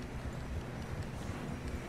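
Horse hooves clip-clop in a steady rhythm through the Red Dead Redemption 2 video game, a continuous close trotting patter with no talk over it.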